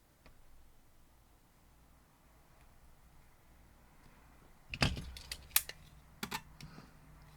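Quilt fabric edge being trimmed to square up a diamond star block, heard as a quiet run of short crisp snips and cuts, fairly close, clustered in the latter half after a near-silent start.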